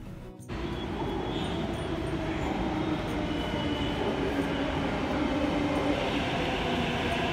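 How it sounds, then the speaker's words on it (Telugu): A train arriving at a station in Hyderabad rumbles in as a loud, continuous roar of wheels and carriages, steady rolling noise with faint rail squeals overhead, no talk. "So here we go, train వచ్చేస్తోంది."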